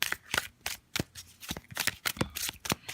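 A deck of tarot cards being riffled and shuffled close by, quick papery flutters and taps repeating in a steady rhythm for a few seconds.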